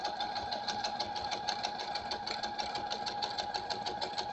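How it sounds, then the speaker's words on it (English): A sewing machine stitches fabric scraps together in a fast, even mechanical chatter, steady and fairly close with no one talking over it. "you'll see as I start stitching these together"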